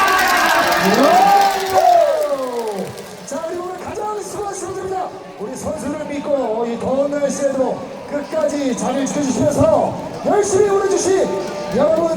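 A large baseball stadium crowd at a Lotte Giants game cheers, chants and claps in loud, rolling waves, with voices rising and falling in rhythmic bursts that carry steadily throughout.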